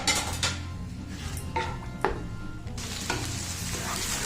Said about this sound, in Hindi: उसके लिए हमने तकरीबन 3 टेबलस्पून ऑयल लिया और उसमें एक बड़ा प्याज चॉप करके डाल दिया। इसको ब्राउन करेंगे।